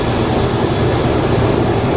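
The Agartala Express, train 15664, running on the track, heard from on board as a loud, continuous rumble with a steady roar and no pauses or talk.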